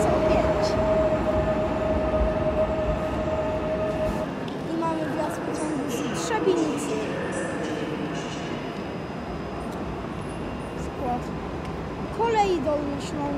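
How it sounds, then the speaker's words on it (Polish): A train pulls into Wrocław station with a steady rolling rumble and a drawn-out metallic squeal near the start, while platform voices carry faintly throughout. "I mamy wjazd pociągu z 3."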